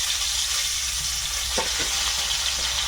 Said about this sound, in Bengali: কড়াইয়ে তেলও দিয়েছি মাছ কিছুটা লবণ হলুদ মাখিয়ে নিয়েছি এখন ভাজবো